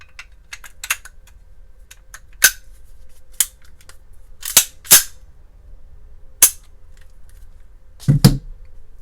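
Sharp metallic clicks and snaps come from parts of a Magnum Research Desert Eagle .44 Magnum pistol being put back together, in scattered close taps with a few louder clacks in a quiet room.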